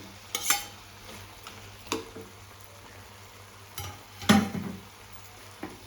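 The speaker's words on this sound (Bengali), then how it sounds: "খেজুর দিয়ে একটু নাড়াচাড়া করে নিই" Tomato chutney with raisins and chopped dates being stirred in a pot, a few separate scraping stirs with quiet gaps between them, near and fairly soft.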